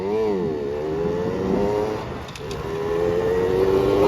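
A car rolling along slowly with a steady engine hum that rises and dips in pitch, close and fairly loud, with a voice speaking over it.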